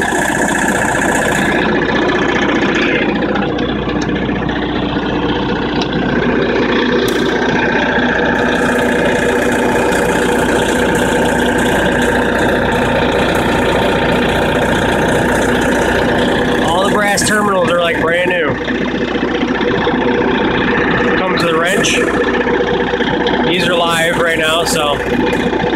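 An MEP-802A military diesel generator runs at a steady, loud drone with a constant engine hum throughout, while someone talks over it.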